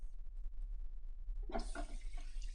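A salon shampoo sink tap turns on partway through to rinse shampooed hair, going from a quiet hum to a steady close gush of running water splashing into the basin.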